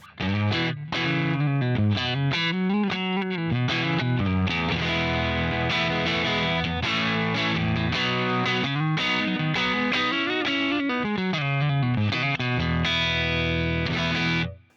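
Clean electric guitar through a Boss Waza Tube Amp Expander plays a busy run of notes and chords with a warm amp tone, loud and continuous, no voices.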